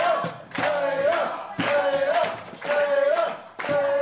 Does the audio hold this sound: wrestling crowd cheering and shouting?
yes